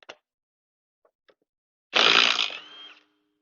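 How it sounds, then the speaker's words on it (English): A smaller impact wrench spins off a 13 mm axle retaining nut on a Ford F150 during a 4WD hub replacement, one loud burst of about a second rattling close after a few faint clicks, then winding down alone. "Now we got to remove this little axle retaining nut, and it is what size? 13. Put it on our smaller of the two impacts here."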